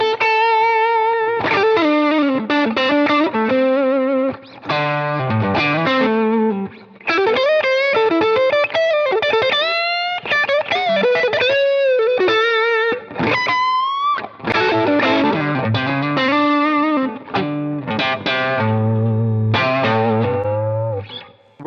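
A Telecaster with aftermarket pickups runs through overdrive, playing a lively lead with bends and quick runs, sustained and crunchy for about twenty seconds with no talk.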